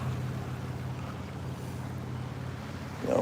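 Creek water flows toward the listener in a steady, close, continuous rush with a low rumbling body, swelling slightly louder in a brief splash right at the end; no voices.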